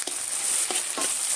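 Ginger frying in a pan for a Bihu chicken dish, a steady close hiss of sizzling oil with a few soft stirring scrapes, no talk.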